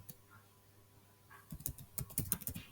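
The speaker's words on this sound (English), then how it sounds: "I will type the machine name," Quiet, close clicking of computer keyboard keys as a machine name is typed, starting after a near-silent pause and continuing as an irregular burst of taps during the final second and a half.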